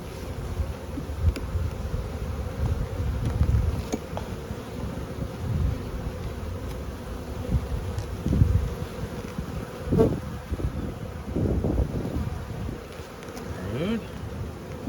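Honey bees in an opened beehive colony make a steady, close, dense buzzing throughout, with occasional soft knocks and thumps from handling the frames.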